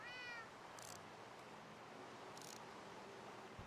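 A cat meows once in the Minecraft video game, a short, faint electronic-sounding mew at the start, followed by quiet hiss-like noise with a couple of brief soft bursts.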